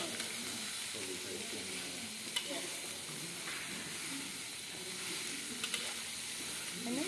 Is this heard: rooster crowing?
no